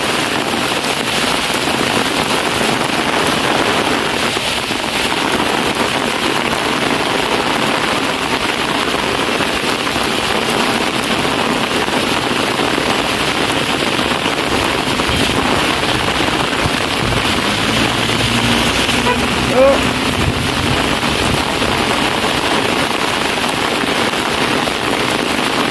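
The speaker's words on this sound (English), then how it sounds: "A whole heap of rain a fall in a Trinityville" Heavy rain falling in Trinityville, a dense, steady hiss of drops on surfaces that runs unbroken and fairly loud throughout, with no voices.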